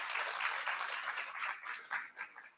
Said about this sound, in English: I think deserves a round of applause for our speakers today.